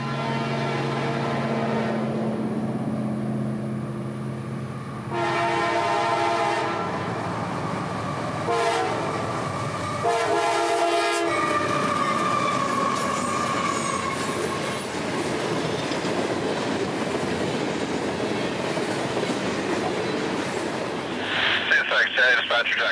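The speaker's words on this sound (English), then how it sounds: "like this morning's M453 rolling south towards Lakeland Connection and the A-Line." Southbound freight train M453 passing close in central Florida, its horn blowing long loud blasts, then heavy rumbling and clattering wheels rolling by for a sustained stretch with squeals near the end.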